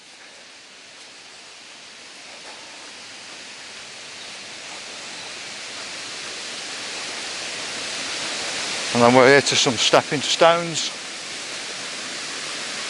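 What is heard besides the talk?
waterfall rushing water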